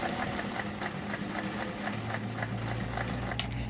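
A vintage Singer 404 sewing machine stitches at a steady pace, its rapid rhythmic needle clatter over a low motor hum, close and even throughout.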